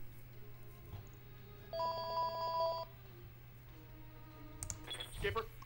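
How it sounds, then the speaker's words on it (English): A telephone rings once in a short electronic trill burst over a steady background hum during a BattleTech multiplayer match, followed by faint clicks. "really sorry about that ringing, guys"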